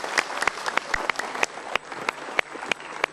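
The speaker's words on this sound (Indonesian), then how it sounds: "kita berikan tepuk tangan" A studio audience claps in sparse, uneven bursts, individual sharp hand claps standing out clearly over a quiet background at moderate loudness.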